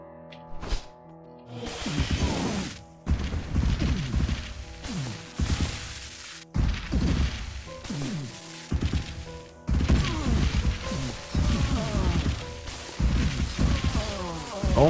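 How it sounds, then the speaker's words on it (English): Rock spells from the game Halls of Watershot repeatedly smash into enemies, with heavy crashing thuds and whacks in dense bursts separated by brief pauses, loud and close with rumbling debris. "we're just smashing them with rocks"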